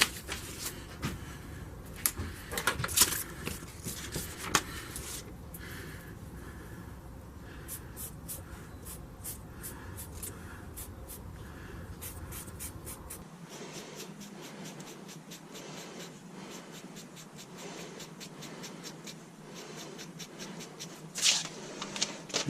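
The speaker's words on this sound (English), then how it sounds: "get a printout of what I need and draw it on there" Pencil or marker scratching across a piece of bone while tracing a printed blade outline, with steady close scraping strokes and a few louder taps and shuffles throughout.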